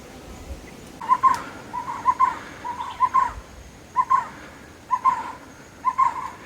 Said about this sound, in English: You can hear some birds chirping.